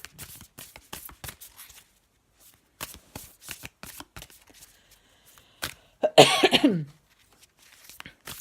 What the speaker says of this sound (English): I'm going to have a little shuffle of the Animal Oracle.